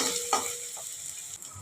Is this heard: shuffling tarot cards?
no